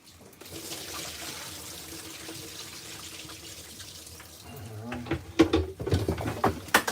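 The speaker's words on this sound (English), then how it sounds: "let's get rid of this water and we're gonna come back with some new water" Kitchen sink tap running as water is emptied and refilled, a steady hiss of flowing water that turns into louder splashing and clattering near the end.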